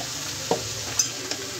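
Potatoes and vegetables fry in soybean oil with turmeric and salt. A faint, low sizzle runs underneath a few soft clicks of stirring.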